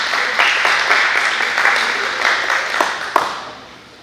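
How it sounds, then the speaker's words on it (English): Audience at a town board meeting in Pahrump applauding, a dense steady round of clapping from a crowd that lasts a few seconds and then tapers off. "How about a round of applause for them?"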